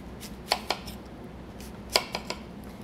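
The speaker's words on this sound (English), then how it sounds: "I'm gonna go in with a paring knife and just go around the sides" A paring knife cuts around the sides of an apple, giving a handful of crisp clicks and taps spaced irregularly over quiet background.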